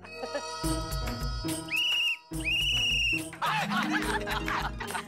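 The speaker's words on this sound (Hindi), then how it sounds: "डॉक्टर हाथी, अब आपको भी कोमल भाभी के लिए सीटी बजानी पड़ेगी।" A recorded whistle played back as applause at a festive housing-society gathering, with piercing tones repeating in short bursts over music, laughter and chuckling.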